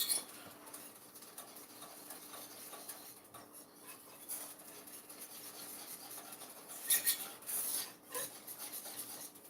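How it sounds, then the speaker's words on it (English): A spoon stirs cornstarch sauce in a pan until smooth, with faint, repeated scraping and rubbing strokes against the metal. There is no talk. "you can see I'm stirring it until it turns smooth"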